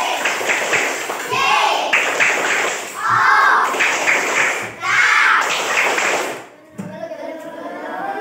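A class of schoolchildren in an Indonesian classroom performs a spirit clap: rhythmic bursts of clapping and tapping in repeated patterns, mixed with young voices chanting along, then a brief pause near the end.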